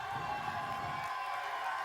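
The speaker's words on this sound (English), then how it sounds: "Just let that crowd pop go a little bit." Live crowd at a show in Boise, Idaho, cheering and whooping in a sustained, dense roar, loud and unbroken across the short stretch.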